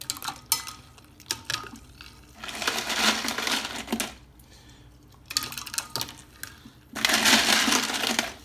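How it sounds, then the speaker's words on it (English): Ice goes into a cup of sweet tea in several bursts of clattering, crunching cubes, with quiet gaps between the pours, close and fairly loud. "So put some more ice in."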